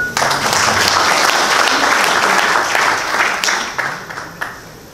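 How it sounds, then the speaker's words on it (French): An audience at an evening dinner-debate in Yaoundé applauds for themselves, producing dense, steady clapping that stays loud throughout and tapers off slightly near the end. "est-ce que vous pouvez applaudir pour vous-même?"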